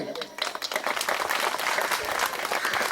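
Applause for teachers at a Zilla Parishad school event in Manegaon, a dense, steady round of clapping from a crowd filling the whole moment.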